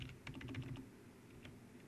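Quick bursts of keystrokes on a computer keyboard, a short run of close clicks followed by a pause and a couple of final taps.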